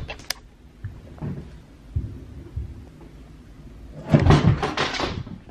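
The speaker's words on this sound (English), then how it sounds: "My dad fixed it, but it makes the weirdest noise ever." A broken chair that has been repaired at home gives creaks and thumps, a few faint knocks at first, then a louder, drawn-out run of creaking near the end, close and alone.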